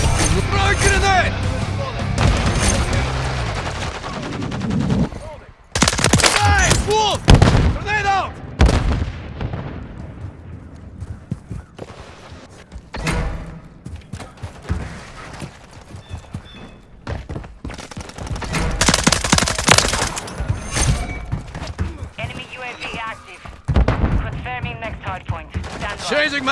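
Dense gunfire from a Call of Duty Modern Warfare 3 multiplayer match on the Rust map, with rapid bursts, heavy booms and explosions that come and go in waves, under shouted voice callouts.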